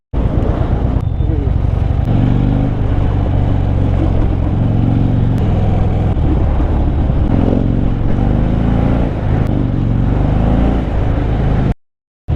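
A vintage Harley-Davidson Dyna rumbles on while riding near Rishikesh, its deep, continuous engine drone loud and close throughout with small shifts in revs.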